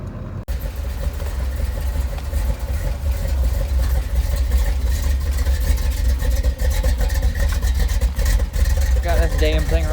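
A Duramax diesel truck engine idles after a cold start, a steady loud low rumble running continuously throughout, with people talking over it.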